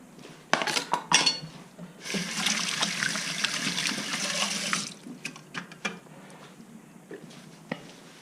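Dishes and utensils clatter in a kitchen sink, then a tap runs for a few seconds as they are rinsed clean. Clinks and knocks of metal and crockery come before and after the steady flow of water.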